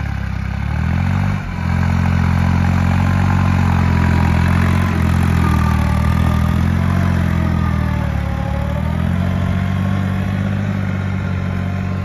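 A Swaraj Target 630 tractor works a field in Kallamb, Dharashiv, its engine running loud and close with a steady, throbbing drone that dips briefly once before settling.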